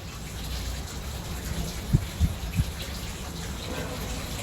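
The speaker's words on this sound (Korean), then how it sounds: "그리고 뒤에 보면은 히노키탕에 물 받고 있죠." Water pours steadily into a hinoki wood bathtub in a hotel room near the sea, a soft continuous gush at moderate distance with a few brief low knocks partway through.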